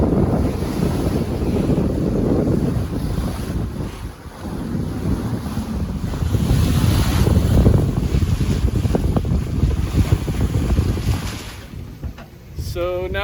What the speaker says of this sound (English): So now we're on a starboard tack, which means the wind is out of the north or the northwest.